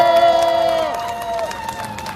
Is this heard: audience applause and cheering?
yes